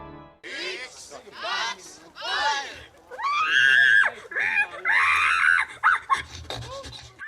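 Human voices imitate pig squeals and grunts at a pig-squealing contest in Tartu, Estonia, with a series of shrill, strained squeals of varying length and loudness, some drawn-out and wavering, close and loud.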